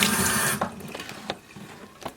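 Vinegar pouring out of a tankless water heater during a flush, a loud splashing gush that abruptly stops, followed by scattered drips and small clanks nearby, with no talking.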